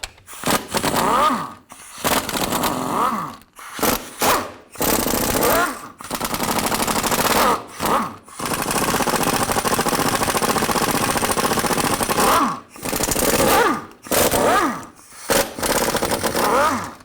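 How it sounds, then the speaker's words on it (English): An impact or air tool removes bolts with a 13mm socket on the rear brake backing plate of a 2000-2006 Chevy Tahoe, loud rattling bursts of a few seconds each separated by short pauses, close up. "I'm going to use a 13mm socket, take all these bolts off"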